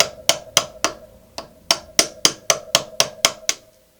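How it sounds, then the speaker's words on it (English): A hammer taps a brake pad retaining pin through the caliper of a Yamaha Tenere motorbike, about a dozen sharp metallic strikes in a steady rhythm, close and loud, with no talking. "just tap through with the hammer until it pops out the other end"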